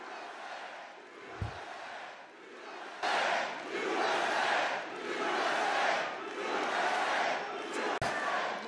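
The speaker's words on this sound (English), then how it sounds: "Just wait, they'll cheer." Crowd at a Trump 100-day speech cheering and roaring in sustained swells, loud and dense, with a brief thump early and a sharp click near the end.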